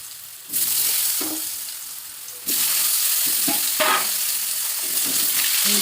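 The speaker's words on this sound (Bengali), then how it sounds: "দিয়ে নেড়ে নিলাম। আলুটা আমি হালকা সামান্য লাল লাল করে ভাজবো।" Cut potatoes fry in leftover fish-frying oil with cumin, sizzling continuously and growing louder partway through, while a spatula stirs with short scraping knocks close by.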